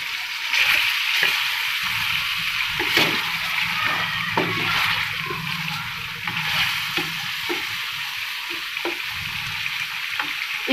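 Chicken and onions sizzle and fry steadily in a pan for nihari, a continuous close hiss broken by faint scraping stirs, with no talking.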